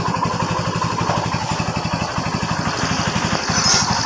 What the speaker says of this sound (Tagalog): So yun, napakaganda pa ng andar ng kanyang makina.